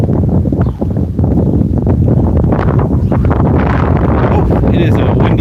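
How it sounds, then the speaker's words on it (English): Strong outdoor wind buffeting the microphone on a windy day, loud continuous rumbling gusts through the whole stretch, with a few faint voice fragments underneath. "Oh, it is a windy day out here."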